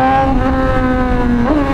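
A motorcycle engine idles and revs close by with a steady, strong harmonic drone, rising briefly near the end, loud and alone without talk.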